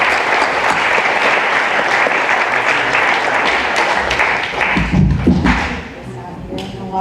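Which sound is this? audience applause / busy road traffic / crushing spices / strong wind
audience applause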